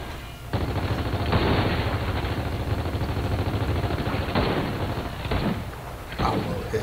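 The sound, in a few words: gunshots in Gears of War 4 video game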